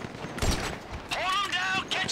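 A few sharp gunshots in GTA 5 crack out over someone talking, with a brief burst early and another near the end.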